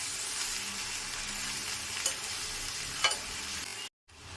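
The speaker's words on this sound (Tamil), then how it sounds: "எண்ணெயிலே போட்டு 5 நிமிஷம் நல்லா எண்ணெயிலே இந்த கொத்தவரங்காய் நல்லா வறுத்துங்க" Steady broadband hiss of cluster beans frying in hot oil, fairly quiet and continuous, with a couple of faint clinks from stirring and a brief cut near the end.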